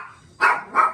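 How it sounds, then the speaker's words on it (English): A pair of sharp, close dog barks cuts through a home kitchen during Trini-style curry chicken cooking, a short pause between them and no other sound around them. "Every time we have to do a presentation, they decide that's when they want to bark."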